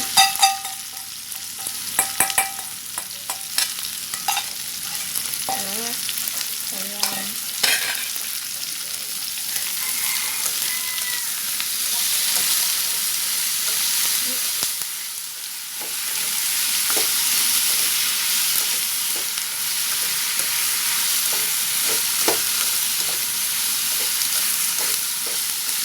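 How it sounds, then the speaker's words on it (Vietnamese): Onion and vegetables stir-fry in a hot pan for vegetarian bún bò xào, giving a steady, close sizzle throughout, with scattered scraping and clatter of the stirring utensil, mostly early on. "Bây giờ mình sẽ cho cái phần cà lát mình vô đây mình xào ha."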